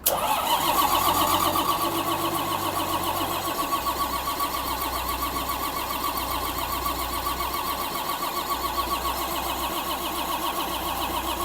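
An engine with a clogged fuel pump cranks briefly, then catches and runs steadily at a loud, rough idle for several seconds.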